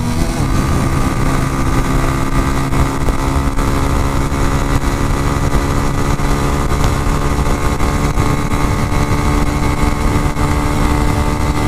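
A Mondial X-treme Maxx 200 motorcycle engine drones loud and steady as it pulls uphill on asphalt tyres, recorded close with heavy wind rush and no break in the roar.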